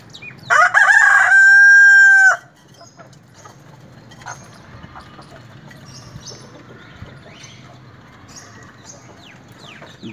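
Golden Misri roosters crow, one loud, close call lasting about two seconds at the start, followed by quieter yard sounds and faint distant bird calls.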